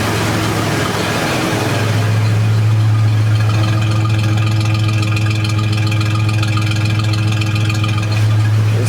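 A 1984 Mercury Capri engine idles steadily and smoothly, a low constant hum with a brief shift in pitch near the start, running close by with no talking.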